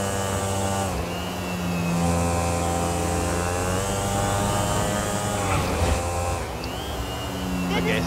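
Motorbike engine droning steadily while riding down a highway in GTA V, a sustained loud hum with small shifts in pitch, carried under faint speech.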